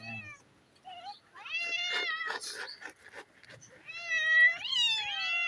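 A cat being fed meows repeatedly, with drawn-out, wavering cries coming in bursts close by and loud, separated by short quiet gaps.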